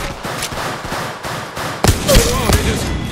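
Gunfire rattles in Apex Legends Mobile on Kings Canyon. A steady, dense chatter of shots leads into a few louder, punchier bursts near the end, with no talking.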